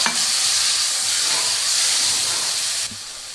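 Spinach frying in hot oil in a pan, a steady bright sizzle close up that holds evenly throughout, with a brief clatter near the start and a slight drop in intensity near the end.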